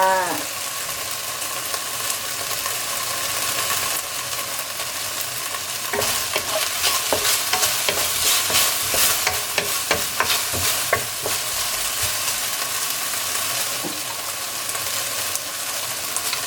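Onion hits a hot pan for a chicken and green pepper stir-fry, starting with a strong sizzle, followed by a burst of spatula stirring and scraping in the middle over continuous frying.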